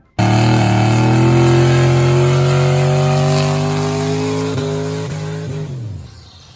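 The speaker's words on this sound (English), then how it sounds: "This is no problem doing a burnout." A 1986 Ford Ranger with a turbocharged V-8 roars through a burnout, its engine holding a loud, steady drone with rising revs for several seconds before cutting off abruptly.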